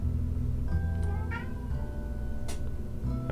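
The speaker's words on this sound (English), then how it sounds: "That would be my cat." A pet cat meows twice, fairly close and moderately loud, over a steady low background hum with no one talking.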